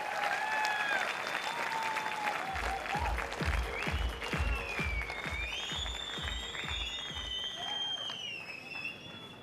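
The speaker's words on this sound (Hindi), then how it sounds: "तो आपकी तालियों के साथ मैं बुलाना चाहता हूं मिस्टर ज्ञानेश्वर बेलुसे को। जोरदार तालियां इनके लिए।" Audience applause at a club gathering in India, a dense crowd of clapping that swells into a rhythmic round of synchronized claps over several seconds, with bright electronic tones and a voice over the top.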